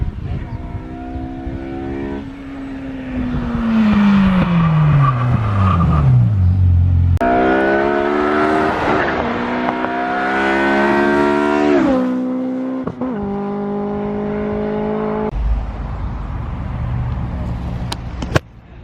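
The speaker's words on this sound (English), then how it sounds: "Just getting some flybys of this this Fiesta with a Honda engine in it." A Ford Fiesta fitted with a Honda engine drives past at a car convoy event, its engine note sweeping down in pitch as it passes, then other loud engines revving and passing by in sequence.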